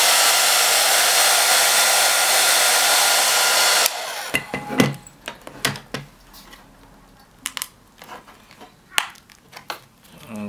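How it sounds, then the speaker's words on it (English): A hairdryer blows with a loud, steady whoosh onto a set casting mould for a Doctor Who Terileptil prop, then cuts off abruptly and gives way to scattered close clicks and handling knocks. "Now I'm going to use a hairdryer just to try and soften up this."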